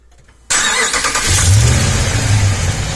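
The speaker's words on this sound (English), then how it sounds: "You hear that exhaust leak?" A 2013 Ram 1500 pickup engine starts and settles into a running idle, with a low rumble and a rough, raspy exhaust note that points to an exhaust leak. It stays close and steady, and no one speaks.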